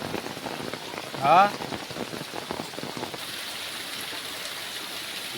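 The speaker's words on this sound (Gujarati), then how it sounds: "જબરદસ્ત વરસાદ ચાલુ છે અમારા મંડ્યાલી ગામમાં" Heavy rain pours down in a village in Mandyali, a dense, steady hiss of drops striking water and surfaces, with a brief spoken word near the start.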